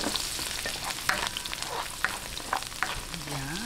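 Garlic hits hot oil left from frying milkfish and sautés with a continuous close sizzle and crackle, broken by a few clinks from stirring, with no voices.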